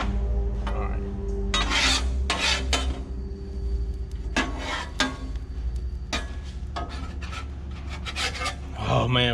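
Metal spatula scraping and rasping across a Blackstone griddle as a three-egg omelette is flipped, repeated short scrapes over a steady low hum, with someone talking briefly.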